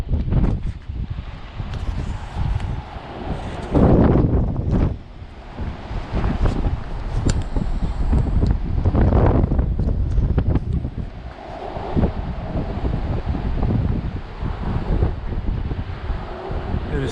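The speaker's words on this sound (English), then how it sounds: "Also so windy, but weirdly I'm not getting buffeted right now, so I don't know what to make of that. I can hear the wind." Strong wind roars across a high lookout above Florence, buffeting the microphone in loud, continuous gusts with rumbling low-end blasts that swell and ease throughout.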